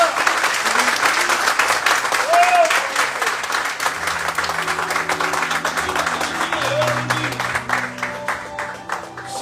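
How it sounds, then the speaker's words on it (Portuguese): A crowd at a church youth congress claps loudly and continuously, the dense applause mixed with shouting voices and a sustained musical tone underneath, gradually easing toward the end. "Cadê os aplausos?"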